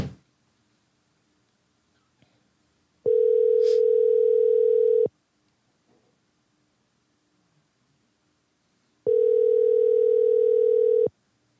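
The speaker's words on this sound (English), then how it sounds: "there we go. It's ringing now." Telephone ringback tone on an outgoing call: two clear, steady rings about two seconds long, separated by roughly four seconds of near silence, with no talking.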